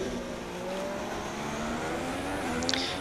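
A Haas Formula 1 car's engine whines steadily at moderate volume in the F1 2016 racing game, the Shanghai circuit setting, its pitch slowly rising and dipping with no voices heard.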